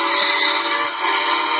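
A loud, sustained train whistle blast, steady and shrill, held unbroken across the whole stretch with no talking over it.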